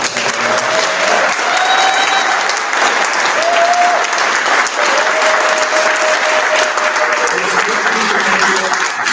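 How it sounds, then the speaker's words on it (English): A large audience at a bookstore author talk applauds loudly and steadily, a dense wash of clapping that holds for several seconds with faint voices mixed in. "Another giant round of applause for Chasten."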